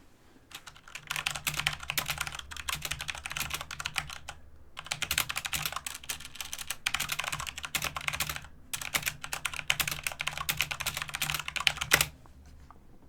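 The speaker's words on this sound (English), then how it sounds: "Immaculate typing." Rapid typing on a computer keyboard during a game livestream, close and crisp, in several bursts of a few seconds each separated by short pauses, with a low steady hum underneath.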